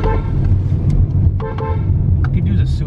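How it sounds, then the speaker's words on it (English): A car horn toots on a narrow winding road while driving toward a cave, short honks over steady engine and road noise, with voices talking inside the vehicle. "We're honking around corners to let other vehicles know that we're coming"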